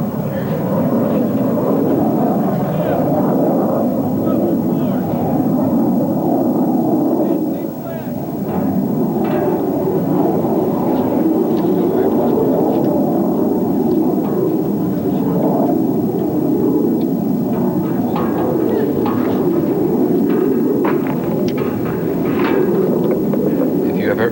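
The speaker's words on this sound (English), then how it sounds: "We hear the aircraft coming to Umm Qasr now." Military aircraft pass overhead toward Umm Qasr, Iraq, during the US invasion, producing a loud, continuous, low roaring drone that holds steady for the whole stretch with no clear break.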